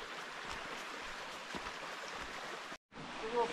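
Stream water rushing beneath a slick trail footbridge in winter on the Appalachian Trail, a steady broad wash of flowing water close by, with a brief dropout near the end.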